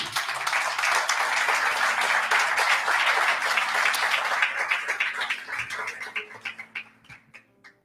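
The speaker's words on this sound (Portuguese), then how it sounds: "Pode aplaudir, Jesus" A church congregation applauding during a morning service, a dense burst of clapping that holds steady for about five seconds, then thins into scattered individual claps and fades.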